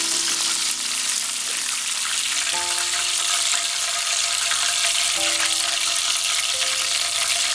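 Chicken popcorn pieces deep-fry in hot oil, giving a loud, continuous crackling sizzle with a few squealing bubbling tones, steady throughout with no talk.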